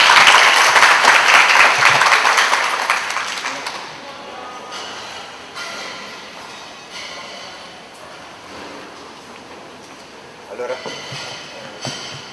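Loud applause from an audience at a book talk fills the opening seconds, then fades away, leaving a quieter room with a few voices and faint sounds.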